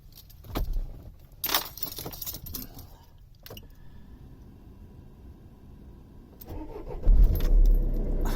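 Keys jangle and a steering lock clunks before a narrowboat's engine turns over and fires up near the end, settling into a low steady rumble, all close by with brief sharp handling noises early on.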